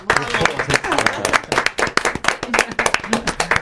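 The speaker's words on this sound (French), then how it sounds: "On peut applaudir" Close, lively clapping from a small group, with voices talking and calling out over the applause.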